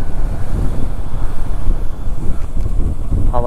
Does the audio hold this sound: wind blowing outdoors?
yes